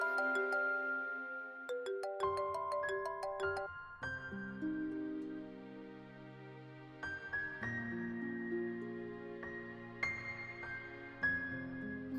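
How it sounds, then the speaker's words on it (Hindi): A phone ringtone plays as a melodic electronic tune with repeating notes, loud and continuous throughout, with no talking over it. "नायला का फोन है, सुबह से 10 बार मुझे भी फोन कर चुकी है।"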